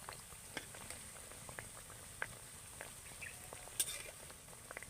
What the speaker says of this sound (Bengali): যত ভাজা হচ্ছে জিলিপিগুলো তত কিন্তু ফুলে বড় হয়ে যাচ্ছে